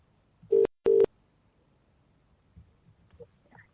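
Two short, clear electronic beeps of a telephone line tone, followed by quiet faint rustling.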